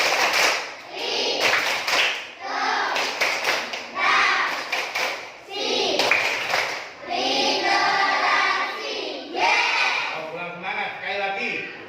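A class of children performs the 'tepuk literasi' clap routine in a school lesson, sharp rhythmic claps in bursts with lively chanting voices between and over them, fairly close and loud throughout.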